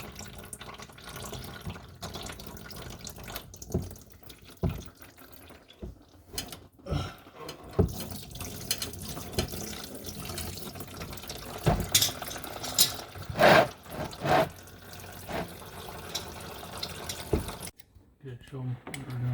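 Coolant draining from the radiator of a Chevy Trailblazer during a radiator replacement: a thin running trickle of fluid mixed with intermittent ratcheting clicks and metallic tool sounds nearby, at moderate level.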